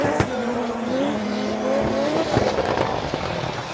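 Drift cars at a Formula Drift Japan event, including Nissan S15s with 2JZ engines, screaming engines and squealing tires as they slide, loud and close with fluctuating revs and crowd noise beneath.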